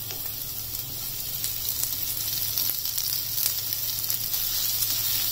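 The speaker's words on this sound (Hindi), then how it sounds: "बस कुछ ही सेकंड के लिए हमें ये मसाले को भूनना है, अदरवाइज ये जल जाएगा।" Spices and potatoes roast in a hot pan, giving an even, close hiss of sizzling that runs unbroken for a few seconds beneath a low steady hum, with no voices.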